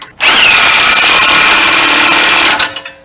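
An electric impact wrench tightening the track bar bolts on a Jeep Wrangler lift kit, one loud continuous whir lasting over two seconds, close up, then spinning down.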